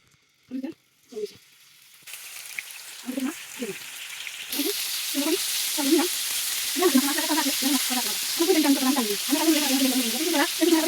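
Khaikkha fish hits hot oil in a pan and settles into a steady, close sizzle, with scraping stirs and faint voices at the start.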